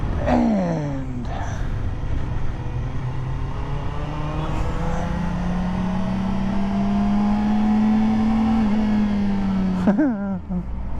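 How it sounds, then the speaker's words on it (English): A Kawasaki Ninja ZX-4RR four-cylinder motorcycle engine revs hard and close, pitch sweeping up in a long climb toward high rpm with a brief blip at the start and a sharp drop-off near the end. "peppy little 4-cylinder engine"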